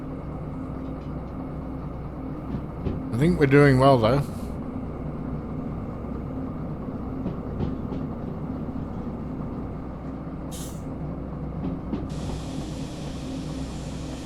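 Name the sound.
train running on rails in video game Derail Valley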